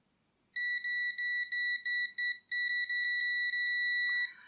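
A shrill electronic beep from a WinAPEX ET8104 multimeter continuity test repeats in short bursts, then holds as a continuous tone before cutting off; close and loud with no talking.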